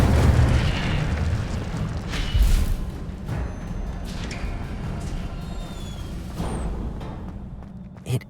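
Fiery bursts of the Incendio spell cast in Hogwarts Legacy, a sustained roaring whoosh with a heavy low rumble and a couple of louder booming swells, continuous and close for several seconds.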